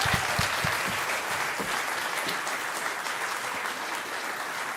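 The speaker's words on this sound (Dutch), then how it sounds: "Groot applaus." An awards ceremony audience breaks into loud, sustained applause as a presenter is invited to the stage, a dense wash of many hands clapping that stays full and even throughout, with no talking over it.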